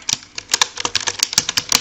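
Quick clicking of keys on a computer keyboard as a command is typed, a brisk irregular run of crisp taps, close and clear with no talking.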